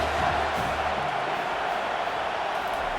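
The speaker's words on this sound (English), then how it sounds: "Third down, and this crowd is tearing the lid off this place." A stadium crowd in the EA Sports College Football 25 game, Missouri at South Carolina on third down, roars in a sustained, dense wash of cheering that holds steady and loud throughout, with faint commentary-like voices mixed in.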